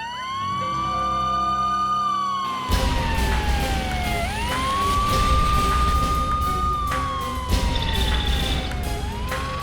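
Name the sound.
fire brigade vehicle siren approaching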